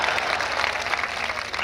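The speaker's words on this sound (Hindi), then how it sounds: "आप ताली बजा रहे हो" Audience at a Hindi kavi sammelan comedy show breaks into steady, dense clapping, a continuous wash of applause at moderate loudness throughout, with no voices standing out above it.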